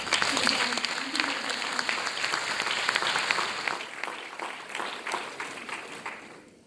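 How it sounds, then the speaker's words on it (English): Audience at a boys' final awards presentation breaks into dense, sustained applause that is loud at first and gradually thins and fades, with a voice heard briefly near the start. "So can we have a round of applause?"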